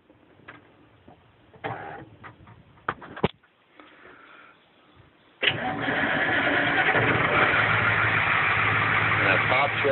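A 1974 Ford 8000 truck with a Cat 1160 diesel engine cranks with several short, sputtering turns, then fires and settles into a loud, steady rumbling idle after sitting through a cold northern Minnesota winter.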